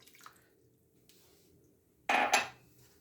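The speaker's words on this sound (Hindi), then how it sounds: "1 कप ही मैं इसमें पानी भी शामिल कर दूँगी" A brief splash and sizzling rush as water hits a hot pan of fresh minced meat, loud and close after quiet background clinks.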